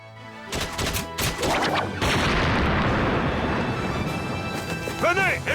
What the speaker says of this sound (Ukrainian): Стріляйте в стіну.